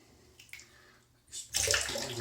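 Water drips and splashes off a shaving brush into a shaving bowl during wet shaving, with a few light drips and then a louder, sustained splashing rush near the end.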